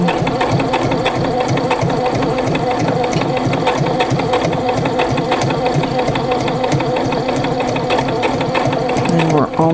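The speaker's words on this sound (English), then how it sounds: "Sew it over again." A sewing machine runs steadily and loudly, stitching an eyeglass case in a fast, continuous mechanical rhythm, with a brief change right at the end.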